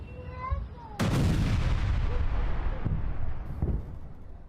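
A sudden loud blast from a rocket and missile attack fired from Lebanon at Israel, a single sharp boom that rolls and decays over several seconds, preceded by faint chirping and followed by a weaker thud.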